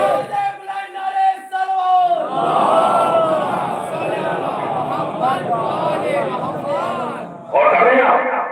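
At a chehlum majlis for Imam Husain, a leader's voice calls out and a large crowd answers with a loud, sustained chanted slogan, then a fresh shout rises near the end.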